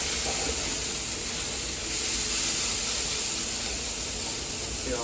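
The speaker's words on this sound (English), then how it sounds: "take it out and transfer it right into our hot saute pan" Pici pasta sizzles in a hot sauté pan with a continuous, fairly loud broadband hiss and crackle that runs the whole time with no talking.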